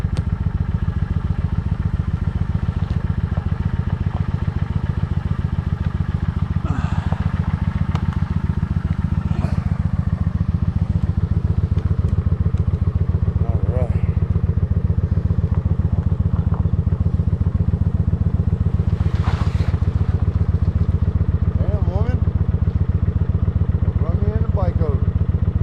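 Motorcycle engine runs steadily through a long ride, a loud continuous low drone with wind rumble and occasional gear-change swells, while a rider talks over it.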